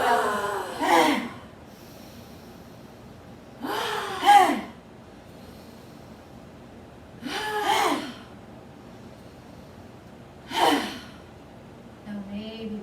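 Four deep breaths repeat slowly at even intervals in a yoga breathing exercise, each a forceful airy exhale following an inhale, close and fairly loud.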